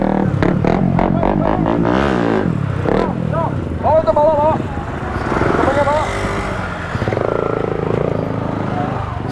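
Motorcycle ridden along a road, its engine droning steadily and revving at times under near-constant excited talk from the riders, with a horn-like tone briefly sounding midway.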